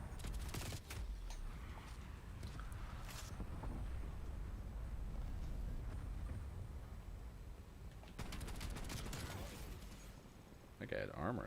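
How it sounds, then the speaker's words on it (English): Bursts of video game gunfire crackle near the start and again later, with rapid volleys of shots over a constant low rumble of game sound, and a voice speaks faintly at the end. "I think I'm shooting at somebody."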